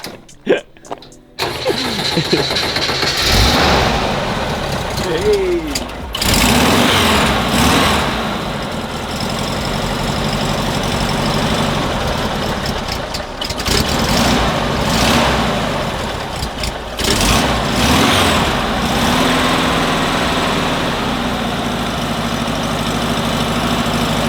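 A VW split bus engine cranks and fires up, then settles into a loud, rough, steady idle with a few brief revs and dips, while people talk nearby.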